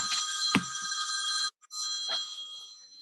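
A mobile phone ringing with a bright electronic ringtone, looping twice with a brief pause between, at moderate volume in a quiet room.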